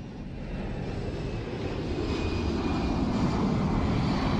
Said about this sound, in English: Roger, TAM-1079, clear for takeoff, runway 13